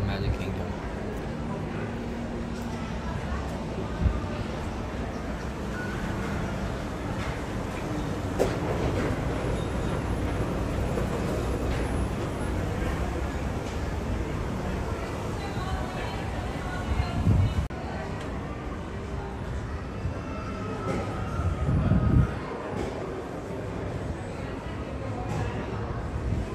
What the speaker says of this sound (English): It was a monorail passing through while we were waiting for our monorail